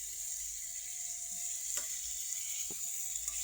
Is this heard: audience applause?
no